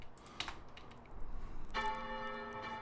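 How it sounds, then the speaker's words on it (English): An ominous, distant church bell with a delay effect, tolling with a long ringing resonance that hangs in the air, preceded by soft clicking taps, fairly faint overall. "distant church bell. I think I put a delay on it as well."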